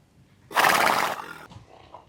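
A single loud, close horse whinny at an Irish stud farm, a bright rising-and-falling neigh of under a second trailing into a softer breathy snort, with no talk.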